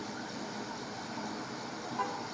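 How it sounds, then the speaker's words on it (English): A car horn toots briefly at a distance over a low steady hum of road traffic. "There's a horn right there."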